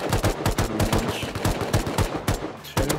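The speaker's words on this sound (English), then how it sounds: "Shooting now" Rapid bursts of gunfire from the survival game Rust, with repeated loud, sharp shots in quick succession filling the whole stretch, close and dense, with no talking over them.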